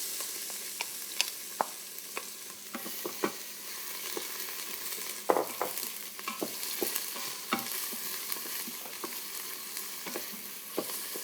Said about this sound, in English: I've got half of cut up onion here. We're going to put that in.